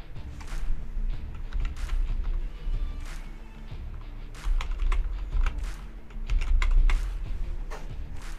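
Computer keyboard keys typed in quick irregular bursts while an email address is entered, close and clear with brief pauses between runs of keystrokes.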